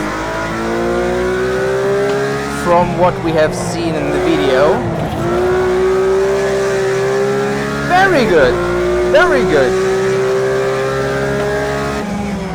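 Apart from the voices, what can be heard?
Porsche GT3 RS engine drifting in racing video game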